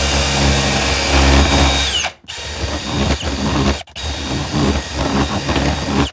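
A power drill whirs loudly as it bores into wood blocking during bathroom plumbing work, stopping briefly twice and revving back up, with grinding and rattling as the bit cuts.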